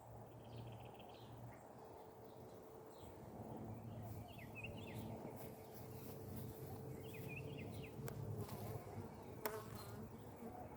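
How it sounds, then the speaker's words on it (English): A honeybee buzzes close around a beekeeper's veil during a hive inspection, a steady, faint droning hum with a few birds chirping softly in the background. "There's still one buzzing my veil."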